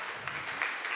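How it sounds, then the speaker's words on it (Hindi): Brief burst of congregation applause at a Sunday evening church miracle service, a faint, steady patter of many hands clapping. "जोरदार ताली।"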